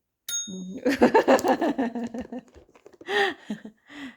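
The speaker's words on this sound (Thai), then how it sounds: "กินอีกบ่คันกินอีกก็กดอีก โมแมน" A Maine Coon cat pressing a bell for food, opening with a single bright metallic ding, followed by a burst of clattering knocks and a couple of short cat-like calls near the close.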